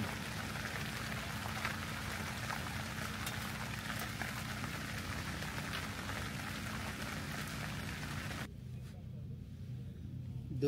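A heavy downpour falls at an open car campsite, close and constant, drumming on nearby surfaces before the sound cuts away sharply near the end.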